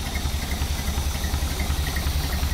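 A 1931 Horch 480 engine idling steadily while running in, a low rhythmic throb close by with no talk over it.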